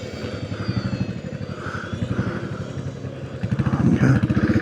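A Royal Enfield Classic 500 EFI single-cylinder motorcycle thumps steadily while being ridden along a back road, its engine pulse close and loud, rising in intensity toward the end.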